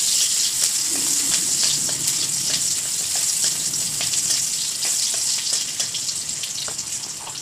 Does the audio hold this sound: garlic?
yes